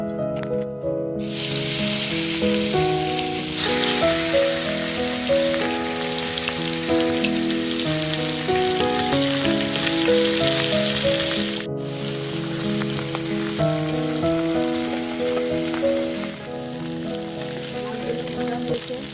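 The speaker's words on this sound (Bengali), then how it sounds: "এবার দিয়ে দেব সরিষার তেল। বন্ধুরা, আমি প্রথমে মাছগুলো ভেজে নিব।" Fish fry in hot mustard oil with a continuous loud sizzle and crackle that holds steady throughout, heard over background music.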